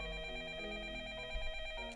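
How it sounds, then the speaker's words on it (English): A telephone rings during a snowy night scene in the mystery visual novel game Up All Night: a steady, faint electronic ringing tone held throughout, with no talk. "Ring, ring?"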